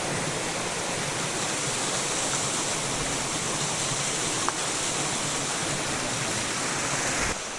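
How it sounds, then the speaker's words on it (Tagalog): A steady, full roar of Princess Falls, a waterfall, close and continuous, pouring without pause. "Welcome to Princess Falls."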